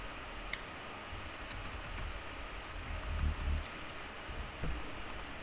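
Computer keyboard being typed on to enter an amount, soft quick key taps and clicks in a short cluster over a quiet room hiss, nearby and without speech.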